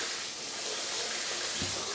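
Steady broadband water rushing from a handheld shower head and an overhead rain shower head on a newly installed two-handle diverter valve, continuous and fairly close, with no talking.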